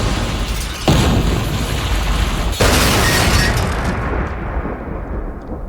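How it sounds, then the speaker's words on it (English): A cartoon explosion as a hospital is blown up, with two sudden loud blasts, each followed by a dense roaring rumble that sustains and slowly fades. "he dresses as the Joker and blows up a hospital"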